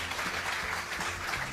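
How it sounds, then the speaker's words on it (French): An audience applauds a chef after a cooking-show episode, giving steady crowd clapping at moderate level that fills the clip without pause and with no talk over it. "On peut l'applaudir"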